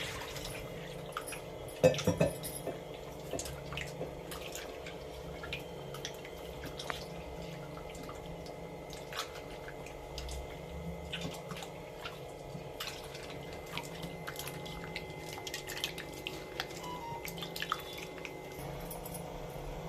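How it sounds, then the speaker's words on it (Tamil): Tamarind dissolved in water is poured out while making a fish gravy, giving a faint, steady trickle with scattered soft drips and one louder splash early on, with no talk. "எல்லாமே புளியை கரைச்சி நல்லா ஊற்றியாச்சு"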